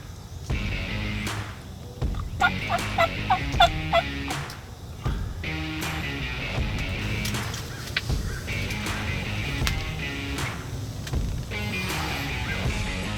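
Wild turkeys gobble repeatedly in rapid bursts over steady outdoor background noise in Florida during spring hunting, with a loud cluster of gobbles near the middle.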